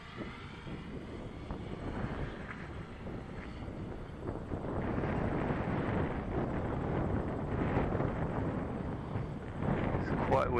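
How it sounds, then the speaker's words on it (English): Strong outdoor wind buffeting a microphone during a camera gimbal test, a continuous low rumbling roar that swells louder midway, with brief faint speech under it. "Quite windy."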